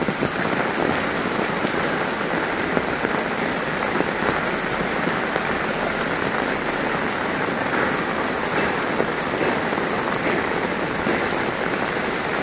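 Heavy rain from Hurricane Nora in Acapulco pours down steadily, a dense continuous hiss of drops pounding a surface, close and loud throughout with no voices.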